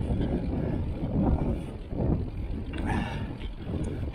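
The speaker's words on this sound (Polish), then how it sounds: "Wiatr troszkę przeszkadza, bo dość mocny" Loud, gusty wind buffets the microphone, producing a heavy low roar that swells and dips in waves, during a road bike climb in the Kraków-Częstochowa Upland.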